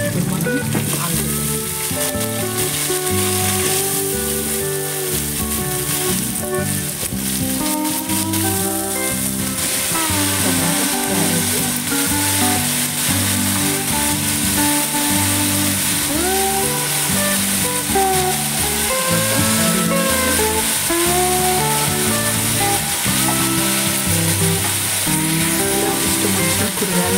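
Onions fry in oil with carrot, potato and beans, giving a continuous loud sizzle that holds evenly throughout, with sustained tonal sounds running underneath.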